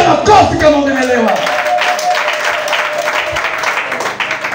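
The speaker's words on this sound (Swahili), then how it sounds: "Piga makofi kama umeelewa." Audience applause during a church revival service, steady broadband clapping filling the room throughout, with voices mixed in early on.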